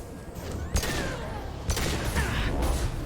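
Gunfire in the video game Mass Effect 2, a couple of loud sharp shots standing out over dense, continuous game battle noise, with no talking.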